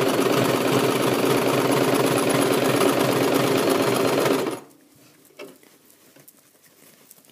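A sewing machine runs steadily around the armhole of a basic tunic, a dense close whir that stops abruptly partway through, leaving faint fabric rustling and handling sounds.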